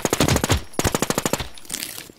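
Enemy automatic gunfire in the DeadZ game, two rapid, loud bursts of about a dozen sharp shots each, close and punchy, followed by a fainter trailing echo.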